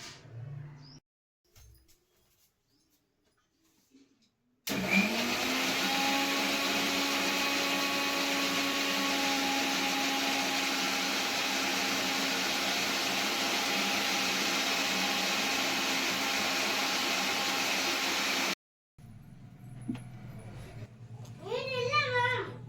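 A mixer grinder blends beetroot with water and salt, giving a loud, steady whirring drone for about fourteen seconds that starts and stops abruptly, with quiet talk just before and after.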